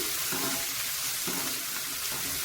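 Rice frying in a pan with a little salt, producing a continuous close sizzle with soft rhythmic stirring scrapes underneath.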